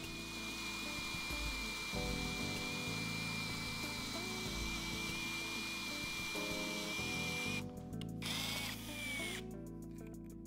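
A power drill fitted with a 5/32 bit and thread cutting oil bores into a damaged screw, a steady close whine running throughout with brief changes in pitch near the end.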